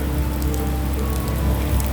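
Heavy rain pours steadily around a new SDLG E6150F excavator, a dense, continuous hiss of drops hitting surfaces close by, with no voices heard.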